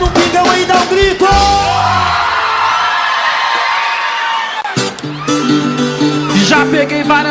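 A live audience at a Brazilian sertanejo show yells, whoops and cheers together in a sustained loud roar after a call from the stage, with music and voices around it.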